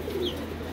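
Pigeons in a large loft give a soft low coo, a single brief murmur over steady background hum with no talk.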